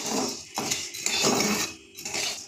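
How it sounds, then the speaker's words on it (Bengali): Wheat grains rattling and scraping as they roast in a pan in repeated bursts, a dry rustling clatter up close with no talking. "এই যে গমগুলোকে এইভাবে ভেজে নিতে হয়"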